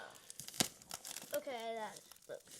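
Plastic shrink wrap on a toy shipment being crinkled and cut open with scissors, short crackling rustles close by, mixed with people talking.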